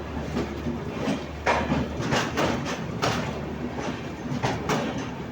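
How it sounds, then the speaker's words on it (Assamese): The Dibrugarh Rajdhani train rolls into platform 1 at Guwahati station, its wheels clattering in a steady, rhythmic clickety-clack over the rails, fairly close and loud throughout with no voices. "ডিব্ৰুগড় ৰাজধানী গুৱাহাটী 1 নম্বৰ প্লেটফৰ্মত সোমাইছে এখন।"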